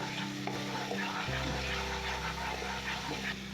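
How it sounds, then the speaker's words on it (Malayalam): Food sizzles in a hot pan while being stirred after salt is added, a steady close frying hiss with scraping stir movements throughout. "എന്നിട്ട് ഇതൊന്നുകൂടി നല്ലോണം ഇളക്കണം നമ്മൾ"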